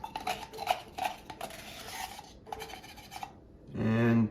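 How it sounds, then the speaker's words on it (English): A whisk or spoon stirs pancake batter made with baking powder in a bowl, with rhythmic scraping strokes and clinks, then a short louder burst of mixing at the end. "Now we'll just mix this all up."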